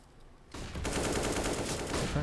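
Sustained automatic rifle spray in CS:GO during an ESL One Rio qualifier match, a sudden loud burst of rapid shots starting after a quiet moment and continuing to the end.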